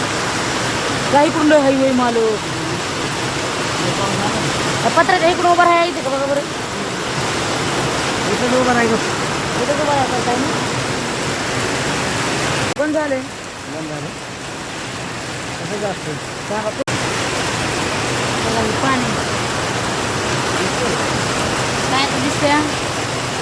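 Steady heavy rain drums on a metal sheet roof throughout, with people talking over the constant hiss.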